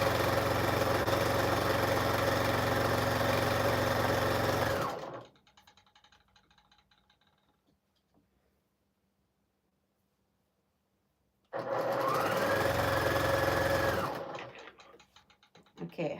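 Sewing machine chain sewing quilt blocks, a loud steady mechanical whir running for about five seconds, stopping into near silence, then starting again for a second steady burst before cutting off.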